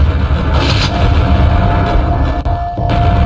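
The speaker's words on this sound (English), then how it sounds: "Now we just have to shoot these random ogres." Gunfire aimed at ogres in the Dark Hour video game, a loud dense barrage of booming shots with sharper blasts near the start and late in the burst, no voices heard.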